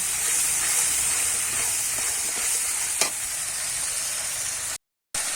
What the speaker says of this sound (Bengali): এবারে সব কিছু ভালো করে কিন্তু আমি কষিয়ে নেব